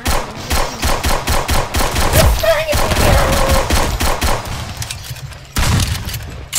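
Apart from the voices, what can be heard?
gunfire in a video game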